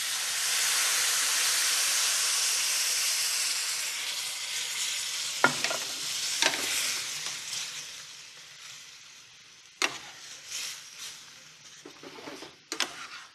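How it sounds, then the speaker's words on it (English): Coconut milk poured into a hot pan with curry paste and tender meat sets off a loud, close hiss that slowly fades into a softer bubbling sizzle, broken by a few sharp clanks of a utensil. "Now, coconut milk goes into this pan."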